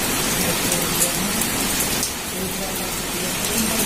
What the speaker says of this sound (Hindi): बारिश फिर होने लगी है और लगातार होती जा रही है